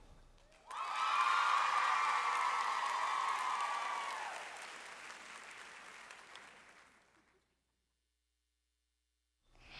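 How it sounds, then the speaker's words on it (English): A school convocation audience cheers and applauds to welcome the Eanes Elementary Mustangs, a loud burst of clapping and shouts rising suddenly, then fading over several seconds into silence. "Everyone, welcome the Mustangs with your loudest cheer."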